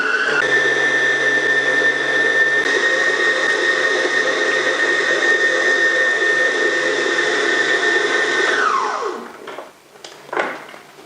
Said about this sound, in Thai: คนจนกว่าจะเป็นเนื้อเดียวกันแล้วใส่ลงไปในเครื่องปั่นค่ะ